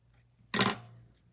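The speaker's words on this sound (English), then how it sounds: "Then you just cut your little loops." A pair of scissors making a single short snip while cutting small loops of material, close and fairly quiet against a near-silent background.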